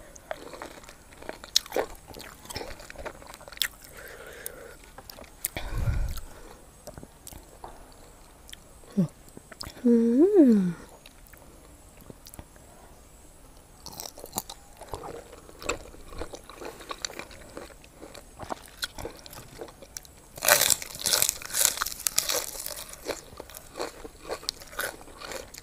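Close, crunchy bites and chewing of raw fresh shrimp doused in fiery chili and fermented fish sauce, eaten with lime, coming in scattered bursts with a louder crunchy stretch near the end and brief mouth sounds between.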